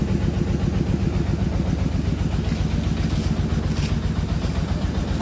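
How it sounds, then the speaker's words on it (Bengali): A 35-horsepower engine on a new-model rice threshing machine runs steadily with a loud, even, clattering mid-pitched chug throughout, no voices over it. "ইঞ্জেল 35 হর্সের ইঞ্জেল,"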